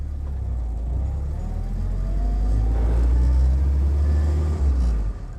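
A World War II jeep engine fitted with new spark plugs idles and runs steadily, a loud close low rumble that holds even throughout with a slight rise in the middle before easing off at the end.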